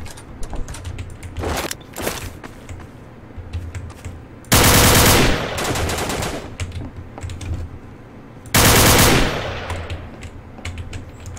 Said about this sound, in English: That guy just tried to shoot me.